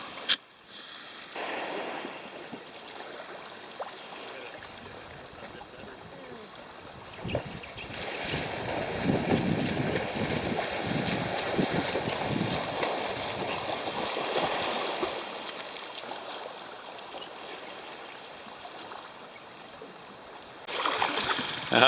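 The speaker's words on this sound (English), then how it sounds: "We've got Pascal on the oars now." A small sailboat is rowed with oars on tidal water in light wind, giving a steady wash of water and soft splashing that swells in the middle and again at the end, with no talking.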